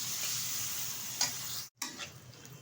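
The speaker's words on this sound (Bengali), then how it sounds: "বেগুনটা একটু সুন্দরভাবে ভেজে নেব।" Eggplant pieces frying in oil, a quiet, steady hiss with a few faint clicks of a utensil and one brief dropout partway through.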